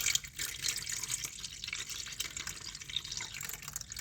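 Water pours steadily into the container of a Luvele yogurt maker, a continuous splashing trickle with small drips, close by and fairly quiet.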